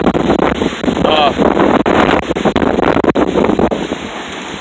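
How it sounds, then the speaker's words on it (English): Hurricane Irma winds in Kingsland, Georgia roar loudly and continuously against the microphone outdoors, with heavy buffeting rumble and brief dips between gusts; a voice speaks briefly over it. "It's kind of windy out. Stuff's flying around."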